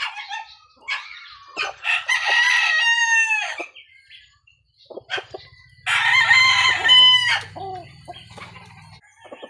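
A Golden Boy Sweater bull stag rooster, one year and six months old, crows loudly twice up close, each crow a long strained call, with clucks and other bird sounds between.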